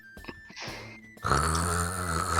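During a tabletop role-playing session, a person imitates a man snoring: short, rough grunting snorts, then a longer, louder, drawn-out nasal groan, voiced close to the microphone.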